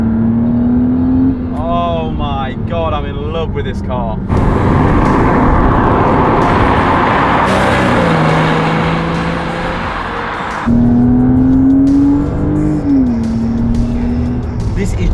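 Porsche Boxster S 550 Spyder 50th Anniversary Edition with Tiptronic gearbox accelerating from inside the cabin, engine revving loudly through rising and falling pitch sweeps as gears change, with someone talking excitedly over parts of it.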